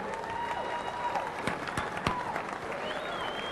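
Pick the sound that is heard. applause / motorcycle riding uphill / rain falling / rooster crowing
applause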